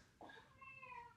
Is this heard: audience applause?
no